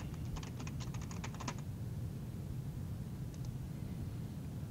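Typing on a computer keyboard, entering text into a word art box. A burst of quick, faint key clicks comes over the first second and a half, then a couple of taps later, all against a steady low room hum.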